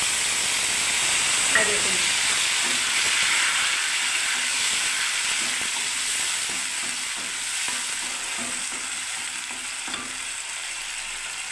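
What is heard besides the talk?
garlic, onion and ginger paste frying in a pan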